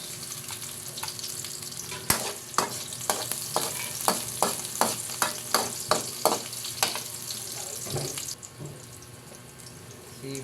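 Garlic frying in a pan for chicken batikulon, a steady sizzle broken by a regular run of sharp spoon scrapes against the pan, then easing to a quieter hiss near the end.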